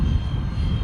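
An Art-Tech F-14 radio-controlled model airplane makes a close pass, producing a steady, loud whooshing motor roar with dense low rumble and little change over the short pass.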